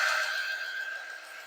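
A dryer blows air over a handmade craft piece, giving a steady whooshing hiss with a faint whine that holds for the whole short stretch.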